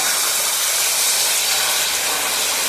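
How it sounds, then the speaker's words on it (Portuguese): Water poured onto hot sugar caramelizing in a pan for pudding, a loud, continuous, broad steam hiss close up, with no voices. "o açúcar já tá virando caramelo. Agora é só você pegar um pouco de água,"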